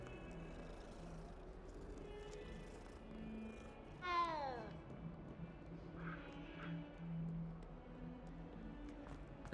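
A cat in Hogwarts Legacy gives a single short, rising meow near the middle, with a fainter mew after it. Both sit over a steady low ambient bed of game background noise.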